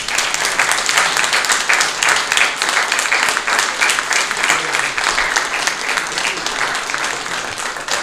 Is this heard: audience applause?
yes